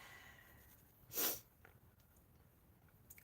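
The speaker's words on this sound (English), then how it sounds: "I'm gonna sneeze." A single sharp human sneeze bursts out over a quiet room background, brief and close, followed by faint rustling.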